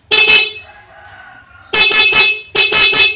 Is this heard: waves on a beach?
no